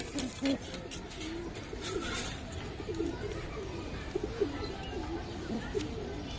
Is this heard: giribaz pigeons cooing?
yes